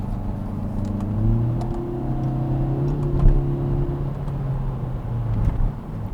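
A 2020 Kia Forte 5 GT's engine accelerating from inside the cabin, a steady low drone that rises in pitch and then drops back at a gear shift, moderately loud and continuous with no talking.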